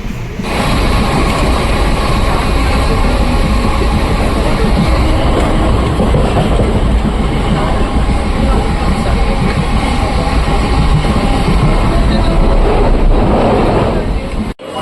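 A Mumbai fast local train runs steadily, its loud continuous rumble and rattling carriage noise filling the ride, with voices faintly present beneath.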